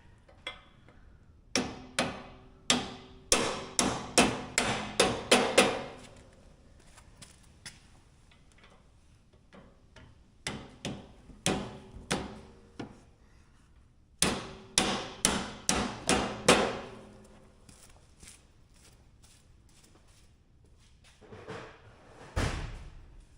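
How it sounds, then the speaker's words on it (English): Rubber end caps being pounded into the bumper of a Cub Cadet XT1 mower, two bursts of rapid hammer blows that quicken and grow louder, with a few lighter taps between and after, close in a quiet space. "The little rubber plugs you pound into the bumper."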